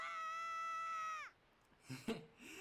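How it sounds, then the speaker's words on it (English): Link from Zelda: The Wind Waker lets out a long sustained scream while falling into a hole. The scream cuts off, followed by a short thud and faint scuffling. "Link screamed for falling into this hole."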